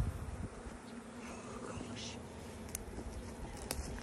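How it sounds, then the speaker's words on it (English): Bees buzz steadily inside a newly set-up beehive while a frame feeder is being added, a dense close insect drone running throughout with faint breathy sounds over it. "I just dropped a bee down in there"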